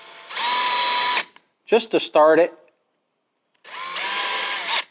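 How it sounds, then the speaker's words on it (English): A power drill whirs in two steady bursts, close by, drilling a pilot hole while installing a door deadbolt, with a short spoken remark between them. "I'm just going to drill a little pilot hole"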